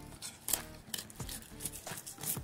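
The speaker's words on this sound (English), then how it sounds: "Cut through the ribs." A knife cutting through the ribs of a ling (red hake) while filleting, close crunchy snips and slicing scrapes in irregular short bursts, fairly quiet.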